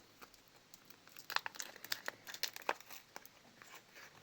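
Paper from a handmade surprise package crinkles and tears as it is opened, with a run of sharp crackles and rips close by and no talk.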